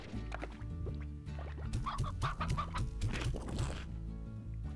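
Chickens clucking in the video game Slime Rancher, a run of short repeated clucks and squawks close by, fairly loud over a light musical background with no talk.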